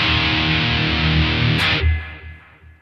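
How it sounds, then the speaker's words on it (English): Heavily distorted metal rhythm electric guitar with slack tuning and heavy-gauge strings, played through distortion, chugging loud and dense before a final chord rings out and decays alone. "Perhaps the most obvious component of the metal guitar sound is distortion."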